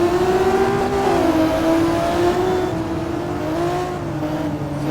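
Race car engines in the Simraceway racing game at Laguna Seca heading toward the corkscrew, a steady, loud droning whine with the pitch rising and falling slightly as the cars hold speed. It is continuous and close, with no speech over it.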